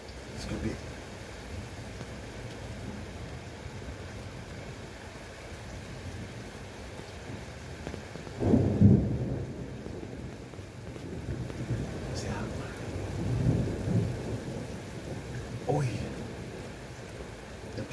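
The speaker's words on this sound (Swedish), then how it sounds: "Det åskar också då." Summer thunderstorm with steady rain and low rumbling thunder swelling in waves, heard from indoors at moderate distance.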